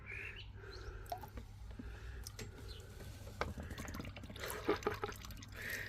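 Liquid poured into water during home renovation block and brick work, a soft trickling and dripping that runs faintly and steadily for several seconds with a few louder splashy bursts near the end.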